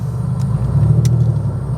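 A Porsche 964 Carrera pulls away from a standstill in steady low engine rumble, heard from close by, with a few faint ticks above it and no talk.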